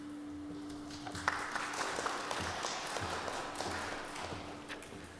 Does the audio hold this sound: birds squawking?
no